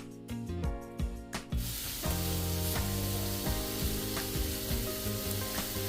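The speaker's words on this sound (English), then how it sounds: "So we're gonna grill this 4 to 5 minutes on each side." Chicken is pressed flat onto a hot grill pan, setting off a loud, continuous sizzle with crackling spikes over a steady tonal background.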